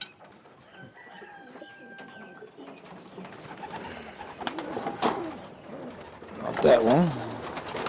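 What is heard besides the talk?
racing pigeons cooing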